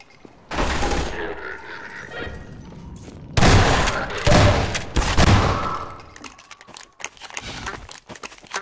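Shotgun fire in Half-Life 2 comes as a few loud, heavy blasts with short gaps between them, amid game noise and some brief talking.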